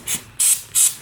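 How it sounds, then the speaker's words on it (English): Chain lubricant sprays onto the chain of a 2014 BMW S1000R motorcycle in three short, crisp hissing bursts, evenly spaced, close and loud. "That means spraying through the spokes."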